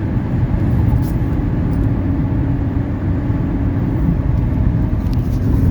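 A 1979 Mercedes 300SD on a test drive, its engine and road rumble droning steadily and loudly from inside the cabin with no break.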